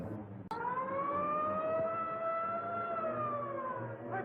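An ambulance siren wails loudly and continuously, a steady rising-and-falling tone held close for about four seconds after a sharp onset, with no voices.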